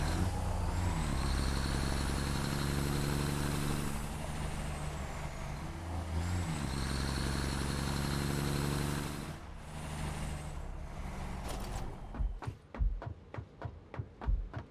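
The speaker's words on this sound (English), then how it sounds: "I'm gonna move the truck." A truck in the factory-building game Satisfactory drives off with a heavy, steady engine drone that rises and falls as it revs, then hisses and clatters into a run of short, uneven knocks as it settles, with no voices.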